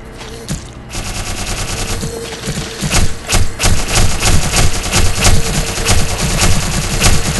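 Rapid bursts of gunfire in the shooter Black Mesa at the Lambda Complex, a dense volley of sharp, loud shots repeating through most of the stretch after a quieter opening.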